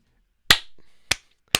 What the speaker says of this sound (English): Why am I clapping so much today?